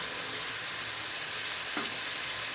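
Ginger, spices and salt frying in a pan for Moroccan fish soup, a steady broadband sizzle that holds level throughout with a brief stir-like scrape near the end.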